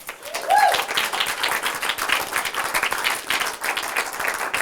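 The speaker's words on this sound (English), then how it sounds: "Please clap for David Wicker" An audience at a comedy show claps for a comedian, a dense, steady patter of many hands at moderate distance with a brief whistle near the start.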